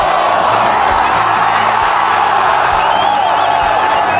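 A golf gallery at the 2011 Sunrise LPGA Taiwan Championship erupts after a shot, a loud, dense roar of cheering, whoops and applause sustained throughout.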